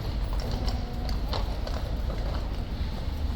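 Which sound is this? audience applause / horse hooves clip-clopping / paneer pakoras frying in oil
horse hooves clip-clopping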